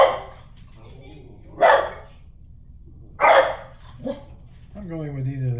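A dog barks twice outdoors, from a moderate distance, with short separated woofs and a softer yip between them against a quiet background. A voice rises briefly at the end.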